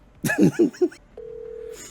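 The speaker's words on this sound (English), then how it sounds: "I'll call her right now." A phone dials out, with a short bright tone blip followed by a steady ringing tone held for about half a second, right after a brief spoken phrase.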